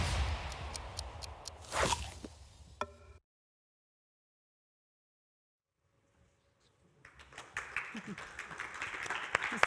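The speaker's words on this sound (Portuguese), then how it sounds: "Salva de palmas." At a science awards ceremony, a short burst of audience clapping fades out within a few seconds and is followed by a stretch of silence, then faint, scattered sounds.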